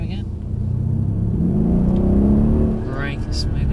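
Mercedes-AMG CLS 63 engine pulling harder as power is added, a loud close rumbling drone that swells in pitch and then eases, with an instructor speaking over it.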